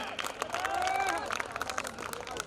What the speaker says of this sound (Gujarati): તાળીઓ પાડીશું. તાળીઓ પાડતા રહો.